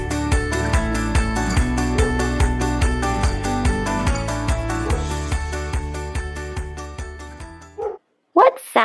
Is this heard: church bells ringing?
no